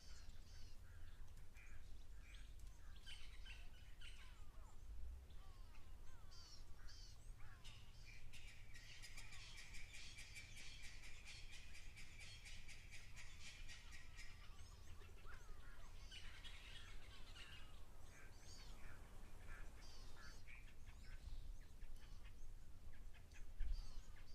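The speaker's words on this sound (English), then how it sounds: "So many birds calling in the background, starlings and bowfowls and grey go-away birds." Starlings, spurfowls and grey go-away birds call at an African waterhole, a constant mix of chirps, caws and harsh cackles at moderate distance, with one louder chattering burst in the middle and no speech.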